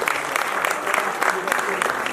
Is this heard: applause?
yes